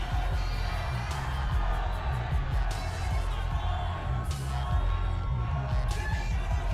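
Bodybuilding fans at the Arnold Classic 2019 finals cheer and yell from across a large hall, a steady rumble of crowd noise with scattered whoops and shouts rising in brief swells.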